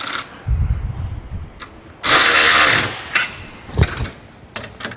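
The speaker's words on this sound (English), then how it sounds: "I use a battery ratchet that tightens to approximately 8 newton meters" Battery ratchet tightening bolts while assembling an Erde 122 trailer, a loud whirring burst of about a second among clanks and taps of tools, close up with no talking.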